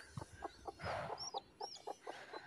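A domestic hen clucks in a run of short, evenly spaced clucks close by, with a brief rustle and a couple of higher squeaky calls in the middle, in a quiet setting.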